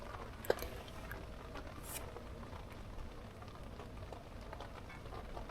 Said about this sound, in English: You can hear the rains on.